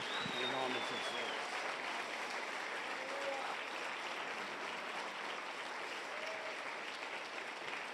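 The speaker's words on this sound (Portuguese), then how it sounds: "Dê para Jesus uma bem forte salva de palmas." A congregation at an evening church service gives Jesus a strong round of applause. The clapping is steady and sustained, with voices rising over it at times.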